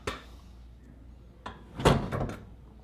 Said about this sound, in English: and it opens the door